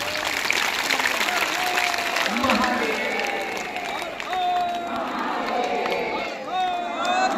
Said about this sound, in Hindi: सभी ने उनका गड़गड़ाहट के द्वारा तालियां बजाते हुए स्वागत करना है।